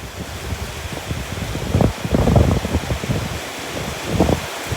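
Heavy rain driven by gusting wind roars in broadband bursts, swelling and easing in irregular surges with rustling and buffeting noise, loud and close, with no voices heard.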